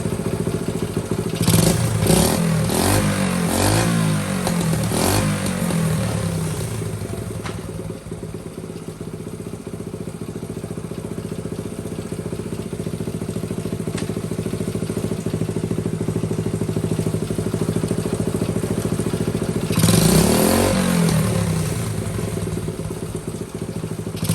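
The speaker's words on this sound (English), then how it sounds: "the bike runs pretty good" A Honda XL70 motorcycle engine runs close by, a steady idle that is revved in a few quick bursts early on and once more near the end, with a mechanical clatter underneath.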